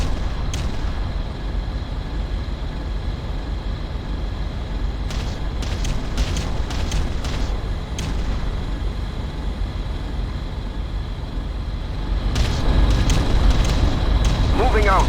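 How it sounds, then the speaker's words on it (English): Artillery bombardment in the strategy game Ground Control: dull booms and rumbling impacts over continuous battlefield noise, with a heavier burst of blasts near the end and voices heard at times. "Area targeted for bombardment."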